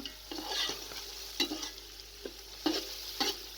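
Peas with garlic and ginger fry in a pan for pulao, a soft constant sizzle broken by irregular scraping clinks of a spoon stirring close by.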